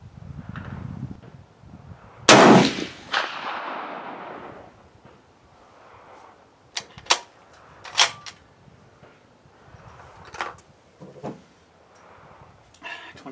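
Shots from an SC 1903A4 hybrid rifle at a shooting range, one sharp loud crack with a decaying tail, followed by several lighter clicks and knocks of handling, with no voices.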